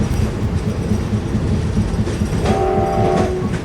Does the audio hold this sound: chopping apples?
no